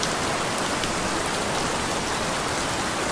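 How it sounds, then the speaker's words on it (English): Heavy rain pours steadily, a loud, dense hiss of drops striking surfaces nearby with no letup across the whole stretch. "Rain, go away."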